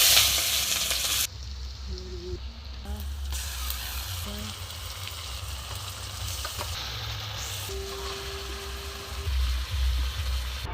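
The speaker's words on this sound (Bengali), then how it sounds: "ওটা গরম মশলাটা পেঁয়াজটা তেলে ছেড়ে দেবো" Onion and garam masala frying in hot oil for a Bengali chicken dish, a steady broadband sizzle running throughout with a few brief clinks and stirring touches, moderately loud and close.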